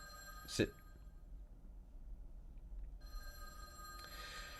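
Old telephone in a mansion giving one short bright ring near the start, then quiet room tone, with a fainter second ring beginning near the end, heard alone without talk.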